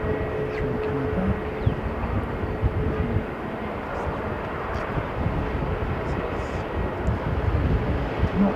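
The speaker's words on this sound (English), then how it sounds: "Not very many private aircraft into Sydney, but this was one of them." A private aircraft flies over, a steady low droning rumble with a broad wash of noise that holds at a moderate, distant level throughout.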